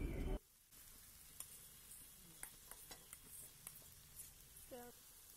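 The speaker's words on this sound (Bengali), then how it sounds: "সবজিগুলোর সাথে সাবুটাও কিন্তু ভালো করে প্রথমে একটু ভেজে নিতে হবে।" Soaked small-grain sago frying with vegetables in a wok, a soft steady sizzle broken by a few light scraping stirs after a brief louder burst at the start.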